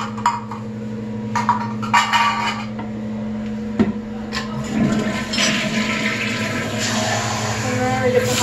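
Very hot water running from a household tap fills a sink with a steady splashing rush, with clanks and knocks of dishes or fixtures over a low steady hum, close by.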